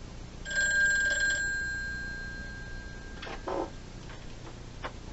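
A vintage rotary telephone's bell rings loudly in a single brief metallic burst, then decays while a few faint clicks and knocks follow.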